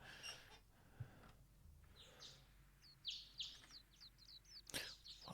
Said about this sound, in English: Lovely bird sound design.